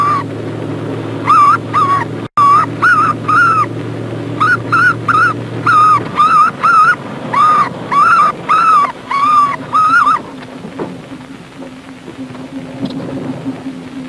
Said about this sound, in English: play a tape of distress calls